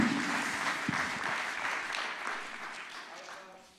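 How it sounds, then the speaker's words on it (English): Audience applause at an art criticism symposium, a dense, steady wash of clapping from a full room that starts loud right away and slowly thins out toward the end. "An applause, yes, absolutely."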